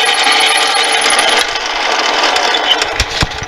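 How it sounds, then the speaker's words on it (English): A drill bores all the way through a brass bar to leave a centered 15/64-inch hole, making a steady, loud, dense grinding whine that runs unbroken before a few sharper knocks near the end. "I'll drill this brass bar all the way through, out the other side."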